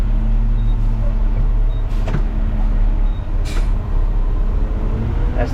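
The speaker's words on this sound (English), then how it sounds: "That's the air brake letting me know what's up." Front load garbage truck at work, its air brake giving sharp bursts of released air around two and three and a half seconds over a steady, loud idling engine rumble.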